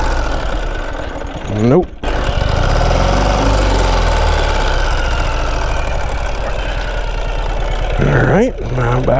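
A Ural Gear Up 2WD adventure sidecar motorcycle engine runs at a steady low throb while the rig turns off road, with brief bursts of someone talking at the start and end.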